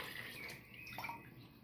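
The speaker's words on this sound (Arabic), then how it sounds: "دونك باش نصبوه ماء اللحم" Hot lamb broth poured from a vessel into a cooking pot of cauliflower and sauce in a Tunisian kitchen, a steady soft liquid splash and trickle close by, running alone without talk.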